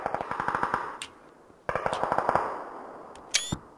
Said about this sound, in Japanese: 銃声のする方へ向かう